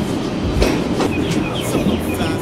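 An Australian double-deck passenger train rumbles past close by, a steady loud roar of wheels and carriages with faint clicking, continuous throughout with no talking.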